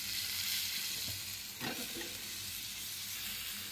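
Eggplant fries in hot oil with powdered spices, producing a steady, close sizzle with a brief burst of stirring partway through and no speech.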